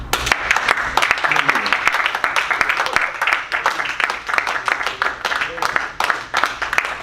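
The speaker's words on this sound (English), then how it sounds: "Let's give God a quick round of applause." Church congregation giving a round of applause during a service, dense continuous clapping that stays loud and close throughout, with a voice audible faintly beneath it.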